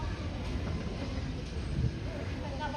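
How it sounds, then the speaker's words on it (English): A Lisbon tram rolls past on a city street, a steady low rumble of wheels and motor close by, with faint speech underneath. "So there's the tram going right there."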